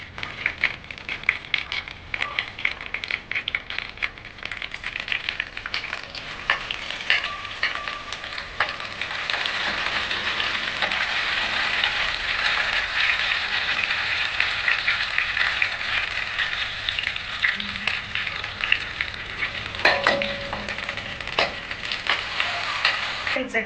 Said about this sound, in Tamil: எண்ணெய் சூடானதுக்கப்புறம் பூண்டை போட்டு நல்லா பொன்னிறமாக வறுக்கணும்.